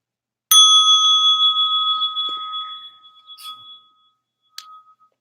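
A single meditation-session bell is struck to signal standing, ringing out clear and bright and fading slowly over several seconds, followed by a brief, lighter second chime near the end, with no talk.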